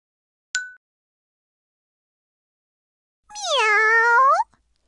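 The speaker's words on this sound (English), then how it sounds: "Meow. Do you like my toy cat?" In the PC game Play & Learn - Let's Make Friends (2001), after a short click, a single drawn-out toy cat meow rises and falls, clear and isolated against silence.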